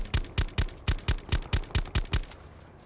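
Rapid automatic gunfire in Call of Duty Blackout, about ten sharp, evenly spaced shots in a steady burst aimed at a player behind a tree, loud and close, then stopping abruptly.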